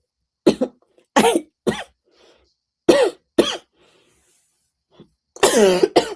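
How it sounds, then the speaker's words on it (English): A series of loud, close coughs in short bursts, separated by silences, ending with a longer harsh cough. "Didn't mean to cough all loud in your ears."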